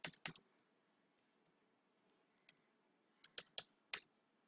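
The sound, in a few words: typing a JavaScript function on a computer keyboard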